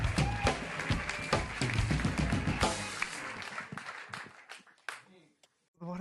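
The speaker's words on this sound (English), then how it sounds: "Make some noise for your next comedian, JJ Curry, everybody." A comedy club crowd applauds and cheers loudly and steadily for an incoming comedian, the dense clapping thinning out and fading near the end.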